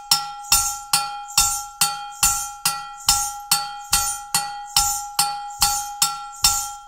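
A metal bell is struck in a samba-inspired percussion groove, sharp ringing hits with a low thump under some of them, repeating in an even pattern about every half second, clear and close with no talk.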